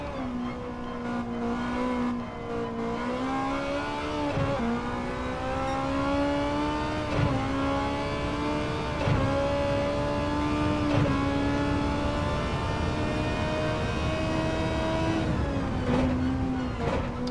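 A car in Gran Turismo 7 launching from a standing start with wheel spin, a loud sustained engine drone rising and dipping through several gear changes, alone without talk.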